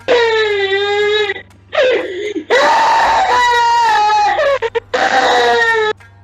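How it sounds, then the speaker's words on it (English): Several children cry and wail loudly as a sound effect, long drawn-out sobbing wails in separate bursts with short gaps, close and with no other sounds. "Almost instantly, the quiet was broken by the sound of children crying."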